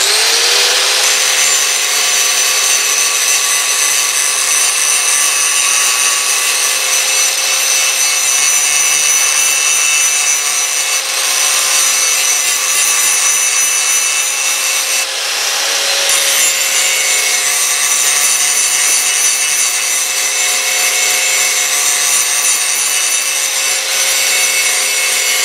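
A belt sander grinding a hand-forged Damascus knife blade, a loud, steady abrasive whine held close for the whole stretch, pitch dipping slightly as the steel is pressed in.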